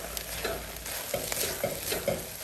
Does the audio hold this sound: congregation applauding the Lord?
no